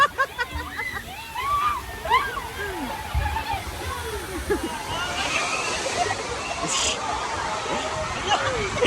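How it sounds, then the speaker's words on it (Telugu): Water pours and splashes from a mushroom-shaped fountain at a water park, a steady rushing spatter under crowd noise and loud nearby shouting and talk. "పుట్టగొడుగులోంచి వాటర్ వస్తున్నాయి, మష్రూమ్స్ లోంచి"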